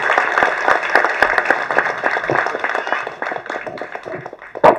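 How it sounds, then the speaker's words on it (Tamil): An audience at a film audio launch applauds the producer, a dense sustained burst of clapping from a crowd, steady and fairly loud, tapering slightly near the end. "எல்லாரும் ஒரு பெரிய கைத்தட்டு தட்டுங்க நம்ம தயாரிப்பாளருக்கு"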